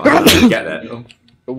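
One loud, close sneeze bursts out at the start, followed by a short pause and then a voice speaking during a Minecraft gaming session.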